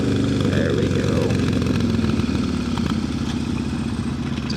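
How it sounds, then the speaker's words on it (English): A motorcycle with a dry clutch idles close by, its loud, steady low engine throb carrying a continuous metallic clatter from the clutch throughout. "Just dry clutch singing over here."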